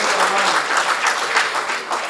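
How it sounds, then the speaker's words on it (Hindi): An audience at a Hindi comedy poetry show claps all together, dense continuous applause that holds steady throughout the moment. "तो एक बार तालियां बजाए"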